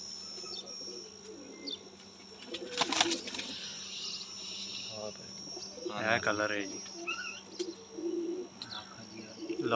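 Breeding pigeons in a loft coo in low throaty bursts, with chirps and a brief flutter of wings nearby, while someone talks intermittently over them.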